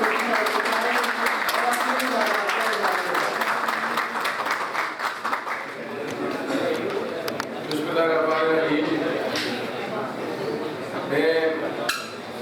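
Applause at a lawyers' association gathering in Lahore: a crowd claps in a dense rolling burst that thins out, then rises again. Someone speaks over much of it through an amplified, echoing sound system.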